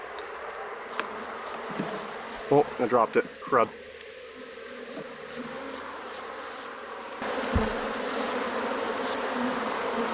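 Agitated honeybees buzzing close by during an April hive inspection among nurse bees; a steady, dense hum runs throughout, and a person briefly speaks over it.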